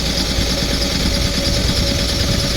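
Euro 5 Ford Transit Mk7 van diesel engine with a clogged DPF idling close by, a steady, loud rumble with a faint whine, no voices.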